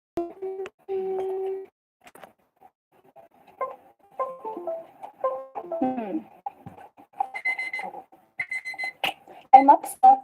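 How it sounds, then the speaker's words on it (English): A kitchen timer alarm rings in short repeated electronic beeping bursts, interspersed with brief voices and other small household sounds. "kitchen timer"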